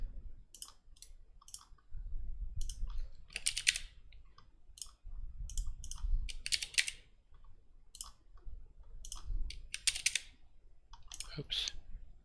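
Keys clack on a computer keyboard in quick irregular bursts while a schematic is typed out in circuit-drawing software, close and crisp, with a low hum between bursts.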